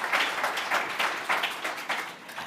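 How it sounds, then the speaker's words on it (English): Applause from an audience at a budget panel discussion, a soft, scattered pattering of claps coming in uneven small surges, moderately distant and fairly quiet. "Oh, the applause was quieter."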